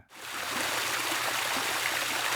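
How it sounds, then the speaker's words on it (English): Water in a stream flows with a loud, continuous rushing and bubbling close by, steady throughout with no voices. "It's so peaceful, the water flowing"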